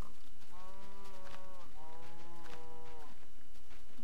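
Two drawn-out cow moos from a video game, each with clear harmonic layers, sound one after the other at moderate volume over a faint steady background, with no talking.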